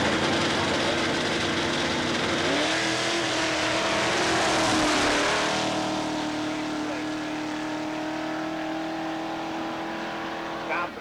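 A Volkswagen-powered rail dragster at a 1990 Southeastern Dragway weekly race roars down the strip, its engine note rising and then sweeping away into the distance while an announcer talks over the track speakers.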